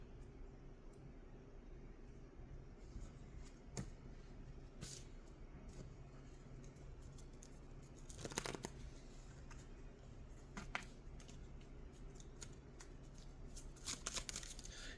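A deck of oracle cards is shuffled and split, with soft riffling and sharp card flicks repeating close by in a quiet room.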